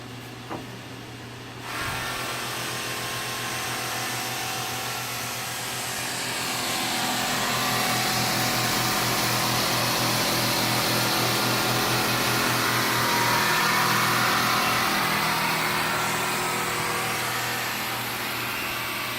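Molding sander running a sanding pass, a steady whirring motor hum with broadband hiss that starts abruptly and continues loud and even to the end, with no speech.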